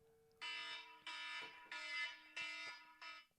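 An electronic alarm goes off indoors, sounding five loud buzzing blasts in a steady on-off rhythm, each about half a second long, with nothing else heard.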